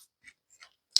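Scissors cut fabric for an A-line gown with short, crisp snips close by, three light cuts followed by a sharper, louder final snip, with near silence between them.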